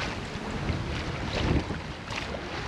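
Wind buffets a sailboat sailing into the wind on a Channel Islands crossing, a steady broadband rush of air and water noise with a slight swell in the middle.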